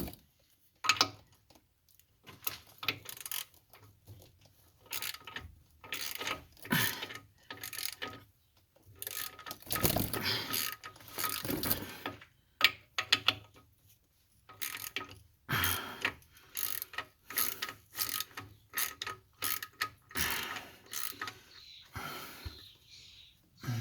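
A hand ratchet loosens a transmission cross member bolt, giving repeated bursts of quick clicking with short pauses and some handling noise across the whole stretch, close by and fairly quiet.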